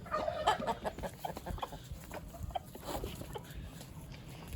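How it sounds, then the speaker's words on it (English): Buff Brahma hens cluck softly and intermittently in a pen, with scattered short calls and rustling close by and no talking. "There's some more of the buff Brahman hens."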